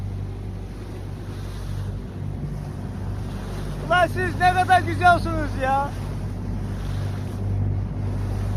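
Steady wind and sea wash around a fishing boat, a broadband rush under a low engine-like drone, with someone speaking briefly in the middle.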